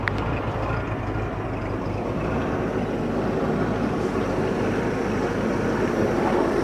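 A 1970s Rinker boat with a MerCruiser 165hp engine idles in a steady, loud, even rumble with a rough low-end throb, and no voices are heard.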